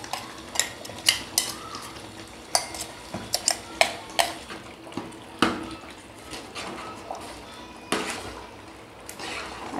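Brinjal thokku being stirred after crushed peanut and sesame go in, with a spoon repeatedly clinking and scraping against the pot in irregular sharp knocks over a soft background sizzle.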